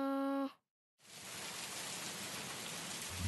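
Steady cartoon rain falls continuously after a brief musical tone and a short silence, a dense even hiss that stays moderately loud throughout with no voices.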